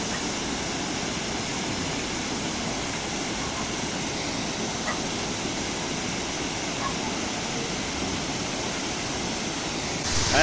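A mountain waterfall roars in a steady, broadband wash of rushing water that stays even and close for the whole stretch, with no clear voices over it.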